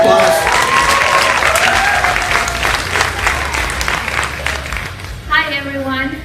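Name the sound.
audience applause at a tribute event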